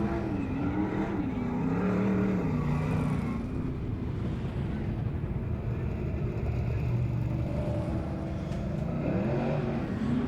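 Sprint cars idle around a dirt race track at Beachlands during a Southern Sprint Car Series round, making a continuous rumbling, burbling engine drone with slowly rising and falling pitch and no talking over it.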